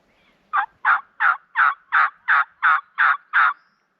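A handheld turkey hunting call imitating a gobble sounds nine evenly spaced, rhythmic bursts near a wooded field edge, close and clear with no voices.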